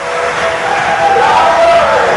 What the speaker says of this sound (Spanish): Vamos a darle un gran aplauso y le invitamos a que suba al escenario.